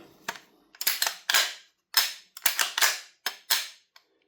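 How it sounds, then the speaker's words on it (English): VFC APFG MPX gas blowback airsoft rifle shooting on semi-auto, about ten sharp, close-up reports at an uneven pace, some in quick pairs, each with a short decaying tail, with no voices. "semi-auto, the gun will work fine."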